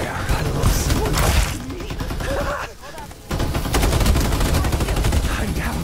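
Rapid automatic gunfire from the video game Farlight 84 rattles in dense, loud bursts with a brief lull midway, mixed with explosions and game effects.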